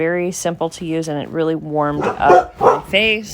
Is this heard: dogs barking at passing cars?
yes